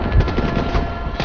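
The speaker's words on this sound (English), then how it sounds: "I hear gunshots, but I don't see nobody." Rapid gunfire in the Call of Duty Black Ops 3 campaign crackles in a dense, continuous burst of overlapping shots, loud and close with game ambience underneath.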